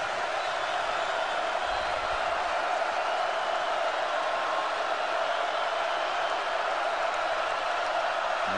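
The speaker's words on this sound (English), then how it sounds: "Starting to get a little noise here at the Zoo" Big football stadium crowd at Missouri's home field during a 2009 college game against Bowling Green, roughly 70,000 fans making a steady, dense roar. The noise is continuous and broad, and no distinct cheers stand out.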